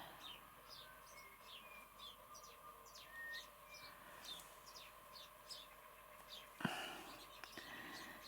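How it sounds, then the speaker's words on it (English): A small bird sings in a fairly quiet room, a steady series of short high chirps and trills repeating throughout, with a brief louder bump near the end. "the poor little bird that's singing, that's not very nice"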